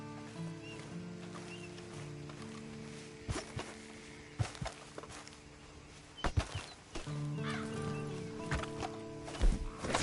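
Hooves clop from a horse nearby: scattered, uneven thuds stand out over a quiet, steady background, with a few close knocks grouped near the middle and end.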